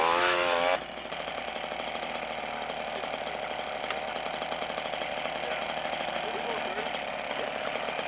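K & S racing bike engine running at a race day in Knoxville, Tennessee: a steady mid-pitched mechanical drone that holds evenly throughout, with a brief different, louder sound in the first second.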